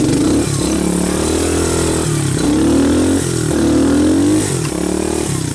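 A Quadrunner 250 ATV converted to a buggy runs in two-wheel drive low, its mid-pitched engine droning steadily and loud nearby, with small rises and dips in revs and no talking.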